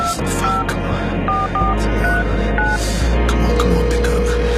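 A phone call is placed with a quick series of short touch-tone dialing beeps over a steady low drone, followed by a longer sustained tone, all fairly close and loud.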